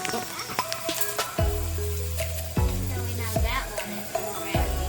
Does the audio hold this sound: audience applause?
no